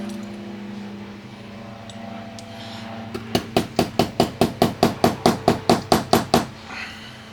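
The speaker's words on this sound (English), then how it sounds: "So you're gonna have to hammer this in." A hammer strikes a part into an AAP FUKU2 lower receiver in a steady run of about fifteen sharp, close metallic taps, with a low hum underneath and no talking.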